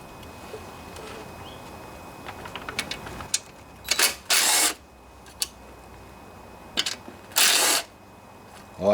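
A 3/8 socket wrench works bolts off the cover of a Snapper riding lawnmower, a run of quick ratcheting clicks followed by several louder bursts of rapid ratchet rasping, close and separated by short pauses.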